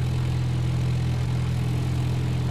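A steady, droning aircraft engine from the X-Plane 10 flight simulator hums continuously at an even, low pitch, close and loud with no talk over it.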